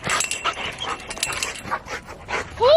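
Pet puppies Molly and Diesel close by, giving short yips and barks among quick panting breaths, ending in a rising whimpery whine.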